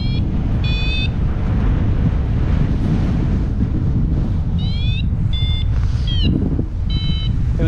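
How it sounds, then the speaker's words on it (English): Strong wind buffets the microphone in a steady, heavy roar, with brief high chirping tones cutting through now and then. "It was quite windy."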